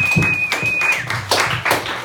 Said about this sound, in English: Everyone give Dome a round of applause.